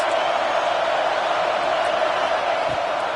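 Football stadium crowd at a Houston vs Utah game roaring steadily behind the defense on a big third down, a dense, continuous wall of cheering with no clear voices standing out.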